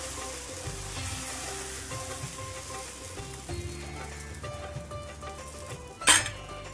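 Rava uttapam batter sizzling steadily on a hot pan over a low gas flame, a close, constant frying hiss with light stirring and a sharp metallic clink near the end, no talking.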